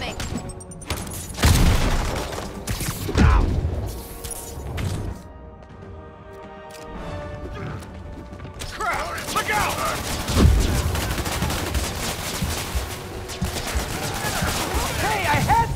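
Grenade blasts and gunfire from a Spider-Man video game: several heavy booming thumps with bursts of shooting, loud and close, with game character voices talking over the action.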